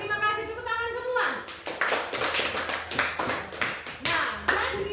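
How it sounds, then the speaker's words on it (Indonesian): A classroom group claps for a student presentation at a Christian religion teacher training session, steady dense patter of hands lasting several seconds, with a low voice and some noise underneath. "Ya, terima kasih, tepuk tangan semua."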